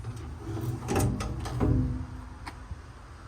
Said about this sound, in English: The drawers are serviceable. They slide fine.